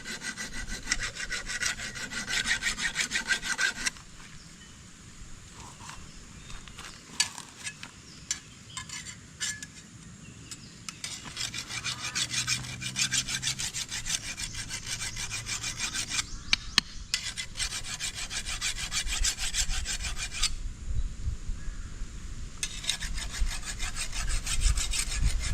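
A blade filed sharp for cutting thick grass in a bitter gourd field: long rasping strokes in bursts, some several seconds long with short pauses between them, close and clear with no talk.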